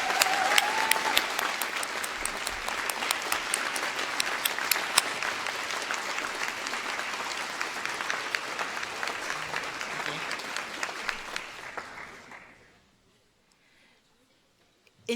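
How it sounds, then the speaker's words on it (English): Graduates at a winter graduation ceremony give a loud, sustained round of applause filling a large hall, fading out abruptly near the end and leaving near silence. "could you give a massive round of applause to all the people who have helped you on your"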